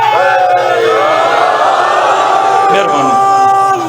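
A large crowd at a religious gathering in Shikarpur, Sindh, shouts a slogan back in unison, loud and sustained, a dense roar of many voices bellowing together for several seconds.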